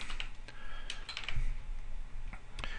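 Keys on a computer keyboard are pressed while editing photos in Photoshop. Scattered light clicks and taps come at an uneven pace over a quiet room hum, close and fairly soft.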